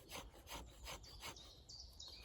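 Steel knife spine with a 90-degree edge scraping shavings off wood for tinder, a series of rhythmic rasping strokes close up, with faint bird chirps in the background.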